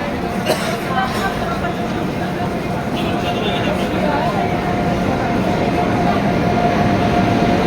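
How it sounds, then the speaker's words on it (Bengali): A passenger train rolls into Malda railway station with a steady low rumble and rattle that fills the platform, a brief horn-like tone partway through, while people talk nearby. "এটা হচ্ছে আমাদের ট্রেন, আর ট্রেনের নাম হচ্ছে বাদুরঘাট বাসিন্দা।"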